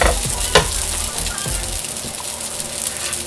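Leftover curry hitting a hot, barely seasoned frying pan, giving a loud, dense, continuous sizzle with a few clanks of stirring up front.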